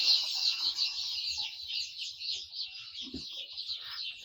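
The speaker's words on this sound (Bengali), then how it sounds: "বাচ্চাগুলো খুবই কিচিরমিচির মিচির আওয়াজ করতেছে" High, continuous peeping from many small chicks on a poultry farm, wet and cold, fills the whole stretch, steady and busy, with a few soft low knocks beneath.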